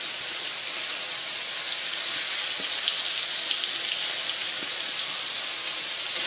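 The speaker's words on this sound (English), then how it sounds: "I'm just going to scatter this fish around in here and get it started" Corn-flour-coated catfish fillets frying in a hot cast iron skillet give a continuous, dense, close hiss of sizzling oil that holds steady throughout with no voices.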